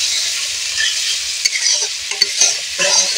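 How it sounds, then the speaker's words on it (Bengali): Spice paste of chili powder and coriander powder with a little water sizzles in a pan while being stir-fried, with a constant frying hiss broken by a few sharp scraping strokes of the spatula. "আর একটু জল দিয়ে মশলাটা যাতে না বসে যায় এইভাবে নাড়াচাড়া করে ভেজে নেব।"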